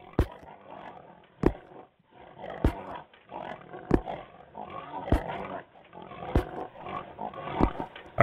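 Pigs on a farm in a video game, with short, loud grunting oinks arriving in a roughly regular rhythm about every second or so. Softer snuffling carries on between them and no one speaks.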